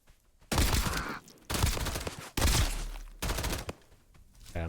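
Bursts of AP-round gunfire from the video game Duckov come in four loud separated volleys, each a dense rattle of rapid shots, close and dominant, with short quiet gaps between them.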